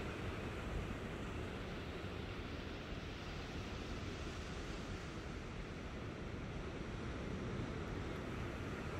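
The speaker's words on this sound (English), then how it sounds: "A glimpse of the ocean." Ocean waves washing onto a shore, heard as a faint, steady broadband rush with wind noise and no distinct breaks or voices.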